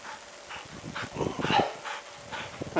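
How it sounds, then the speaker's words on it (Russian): A dog outdoors in snowy country where meat is hauled by a Buran snowmobile gives short yips and whimpering barks, several close bursts spaced irregularly, with no talking. "Собаке уже тяжело."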